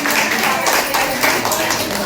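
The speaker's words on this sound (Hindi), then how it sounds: "तालियों की गड़गड़ाहट से" Audience clapping at an event honoring a women's empowerment organization, a dense continuous patter of many hands, loud and close throughout with a murmur of voices mixed in.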